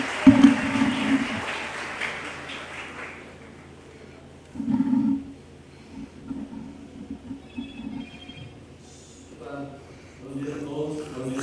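An audience at a student parliament colloquium claps loudly at first, then the applause fades out, followed by a short second burst and scattered room noise.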